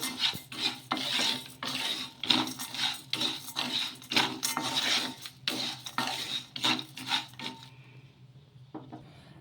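Rice and peanuts dry-roasting in a pan over a low flame, stirred with steady, rhythmic scraping and rustling strokes that stop near the end, with no talking.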